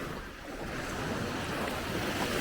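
Waves wash onto a small beach below a viewpoint in Benidorm, Spain, a steady surf roar with wind buffeting the microphone throughout.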